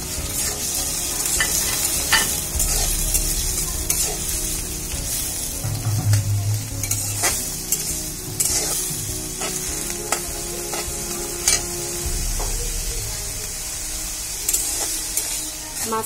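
Shrimp frying with salt in hot oil in a pan for a green chili stir-fry, a steady close sizzle and hiss throughout, broken by occasional clinks and scrapes of stirring.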